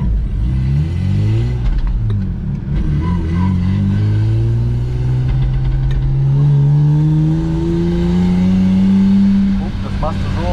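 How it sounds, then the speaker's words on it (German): A Lexus IS300's engine revs while the car is held on the brake to warm its tires. A loud, rising drone climbs steadily over about ten seconds, close and continuous, with people talking faintly underneath. "Du stehst auf der Bremse und machst so, dann die Reifen werden schneller warm."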